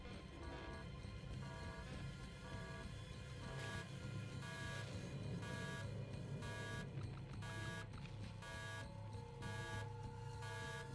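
Alarm blaring inside the space station setting of the game Observation, a steady, repeating electronic tone pulsing over a dense, continuous hum of background machinery and music.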